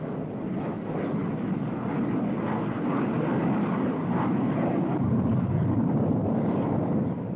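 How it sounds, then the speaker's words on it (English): Fighter and bomber aircraft launch from an attack carrier's deck, making a steady, loud jet roar that holds throughout without voices. "During the launch of the attack carrier's mix of fighters and bombers"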